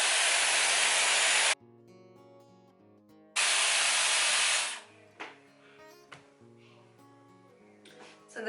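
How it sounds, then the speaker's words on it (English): Dyson Airwrap hair styler running at full heat and full speed, a loud steady broadband blowing rush in two bursts of about 1.5 seconds each, with quiet gaps and faint background music between them. "I do have the heat setting all the way up, and I do have the speed setting all the way up for the Dyson."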